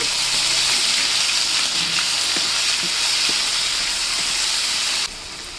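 Ginger and garlic hitting a pan of well-fried onions produce a loud, steady, hissing sizzle that runs unbroken before dropping slightly near the end.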